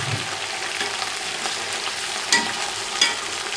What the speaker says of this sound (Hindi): अब इसमें हम चिकन डाल देते हैं।